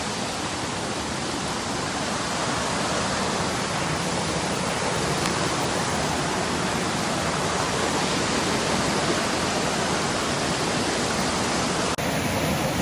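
A creek's water flowing in a steady, unbroken rush, loud and close, with no voices over it.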